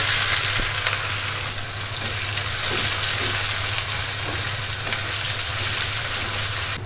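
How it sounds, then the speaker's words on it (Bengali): Two large chopped onions fry in hot oil, giving a loud, close, continuous sizzle and crackle that sounds much like steady rain, with no voices. "তেল গরম হয়ে গিয়েছে, এবার আমি পেঁয়াজটা দিয়ে দিচ্ছি।"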